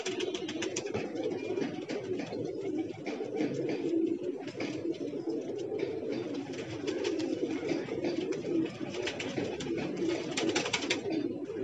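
Several domestic pigeons coo steadily in a loft, soft overlapping throaty calls repeating close by with a continuous low murmur and no talk.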